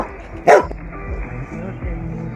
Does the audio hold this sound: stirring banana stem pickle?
no